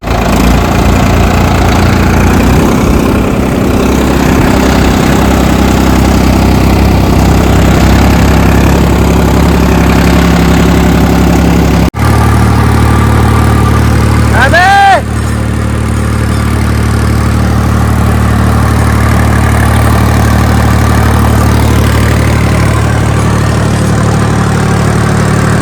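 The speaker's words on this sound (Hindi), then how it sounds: "और ट्रैक्टर वहाँ खड़ा है। तो इसकी जुताई शुरू करता हूँ मैं।" A farm tractor engine idling before ploughing a field for sowing wheat, a loud, steady, throbbing diesel rumble close by, with a brief high whine partway through and the idle continuing unchanged.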